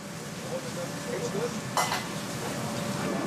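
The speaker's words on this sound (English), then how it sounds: "Chunks of lobster meat goes into the wok." Chunks of lobster meat stir-fry in a wok with a steady close sizzle, with a brief metallic scrape of a utensil partway through.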